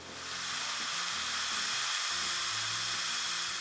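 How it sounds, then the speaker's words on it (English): Casabrews Ultra espresso maker's steam wand blasting out steam, a loud, steady broadband hiss that holds unbroken for several seconds with a faint low hum beneath. "It's gonna take about 20, 30 seconds to warm up, and then it's going to start shooting out steam."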